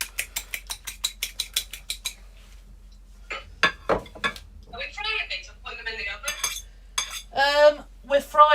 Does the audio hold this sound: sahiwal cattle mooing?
no